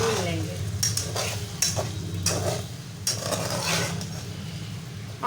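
Potatoes frying with tomatoes in a pan over medium heat, with a steady sizzle, a low background hum and several brief scraping stirs of a spoon. No one speaks.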